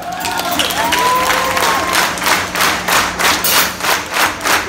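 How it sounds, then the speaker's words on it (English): At a rock concert at Revolution Live in Ft. Lauderdale, the crowd cheers and then falls into rhythmic, evenly spaced clapping in unison, loud and roomy, with shouting voices early on. "start clapping"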